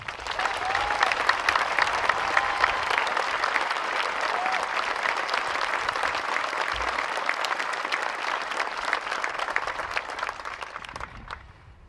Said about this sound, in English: But please, let's give them one more round of applause